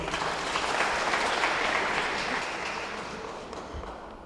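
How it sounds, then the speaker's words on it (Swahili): Applause from a crowd after a vote count announcement, a steady, dense clapping that holds strong and then slowly fades. "Makofi kwake."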